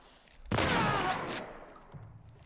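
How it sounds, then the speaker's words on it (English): A single loud shotgun blast in a video game, a sudden sharp burst with a rushing decay lasting about a second, followed by quieter game ambience. "I have a shotgun for a reason."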